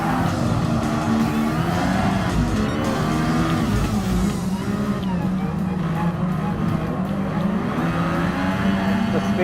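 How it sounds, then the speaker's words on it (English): F1 race cars roar past in Gran Turismo Sport, including a green car and a magenta-pink one, their engines whining at a steady high pitch that rises and falls as they pass, loud and continuous throughout. "We pass on the green F1 and then followed by the magenta pink F1 car"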